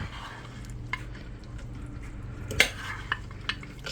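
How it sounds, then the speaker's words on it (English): A spoon stirs a taco casserole mixture with cheddar jack cheese in a dish, giving soft, close scraping and squelching broken by a few light clinks against the bowl. "Stir that all together."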